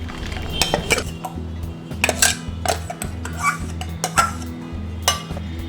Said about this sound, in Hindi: ये हमारा पालक, प्याज और लहसुन का ग्रेवी रेडी हो गया है और इसको मैं कढ़ाई में निकाल देती हूँ।